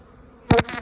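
Honeybees from an established hive buzz briefly on a frame held up close, a quiet background hum swelling into two or three short, louder buzzing bursts near the end.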